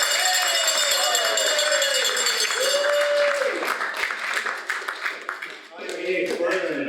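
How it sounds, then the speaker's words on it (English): Crowd at a ski patrol speaker series clapping for Gord, a fairly steady wash of applause with whoops and voices over it, thinning out toward the end. "big round of applause for Gord"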